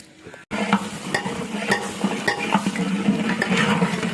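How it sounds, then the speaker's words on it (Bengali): Onions fry in a pot with a steady sizzle while a spoon or ladle scrapes and knocks against the metal in frequent strokes. The sound stays close and busy, with no talking. "এটা একটু পরপর নেড়ে দিতে হবে যেন পেঁয়াজটা পুড়ে না যায়।"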